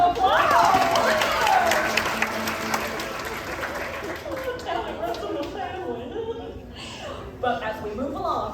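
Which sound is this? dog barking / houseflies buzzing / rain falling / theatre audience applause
theatre audience applause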